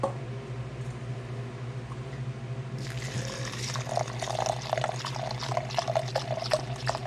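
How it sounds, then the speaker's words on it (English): Beef broth poured into a meatloaf mix seasoned with off-brand onion soup mix: after a quiet start, a close, steady splashing liquid stream begins and keeps running to the end. "Now we're going to get the beef broth here."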